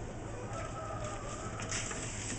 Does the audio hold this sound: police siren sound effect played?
no